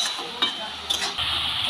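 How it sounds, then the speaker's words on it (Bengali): Mustard greens fried and stirred in a pan make a close, continuous sizzle, broken by a few brief scraping stirs against the metal. No one speaks. "দেখো বন্ধুরা, শাকটা নাড়তে নাড়তে কতটুক হয়ে গেল।"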